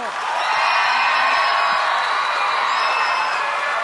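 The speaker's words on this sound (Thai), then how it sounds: "ขอเสียงกองเชียร์หน่อยเร็ว" Fans at a Thai live singing competition show cheer and shout together, a steady, loud crowd roar with whoops rising over it, sustained throughout with no single voice standing out.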